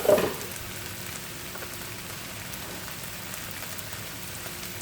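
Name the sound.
rice added to hot pan, frying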